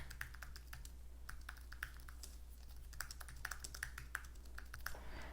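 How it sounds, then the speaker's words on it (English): Typing on an Apple Magic Keyboard, a very light keyboard with small rubber feet: irregular bursts of crisp, close key taps, sometimes in quick clusters, over a low steady hum, with no voices. "it feels like you're typing on a MacBook"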